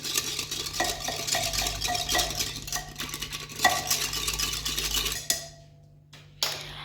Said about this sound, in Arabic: وغادي نخلطه مليح